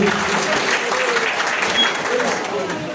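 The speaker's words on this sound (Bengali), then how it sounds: "আমরা একটু সবাই সজোরে হাততালি দিই" Loud, continuous applause from an indoor audience at a large corporate gathering of a construction chemical company, steady crackling claps filling the whole stretch with a faint crowd murmur.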